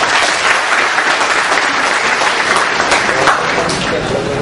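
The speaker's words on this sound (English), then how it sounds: "Let's give them a round of applause." Conference audience applauding IT professionals at an open source .NET event, loud close crowd clapping steady and full throughout, with faint voices in the mix.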